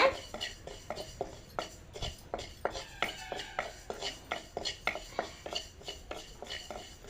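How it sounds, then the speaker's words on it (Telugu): Dry rice frying in a pan until reddish, stirred steadily with a spoon, giving a rapid run of close scraping and clinking strokes against the metal, fairly even in rhythm throughout. "బియ్యం ఎర్రగా కట్ట వేయించుకోవాలి"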